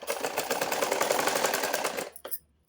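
A sewing machine stitching the shoulder seam of a blouse runs in a fast, even rattling burst for about two seconds, close and fairly loud, then stops with a final clack.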